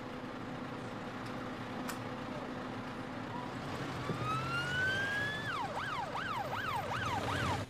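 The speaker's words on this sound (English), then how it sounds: "He's going by ambulance to the hospital now." A siren rises from faint to loud, sliding upward then switching to a rapid wailing yelp over steady traffic rumble as the vehicle approaches.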